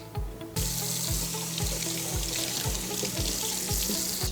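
Carrots rinsed under a steady kitchen tap, water running and splashing continuously into the sink, close and clear, with faint knocks and clatter in the background and no talking.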